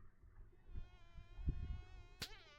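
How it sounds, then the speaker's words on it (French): A fly buzzes in a thin, steady whine with a few louder passes as it comes closer, faint and alone, ending with a brief sharp knock. "Oh oui, il y a une mouche."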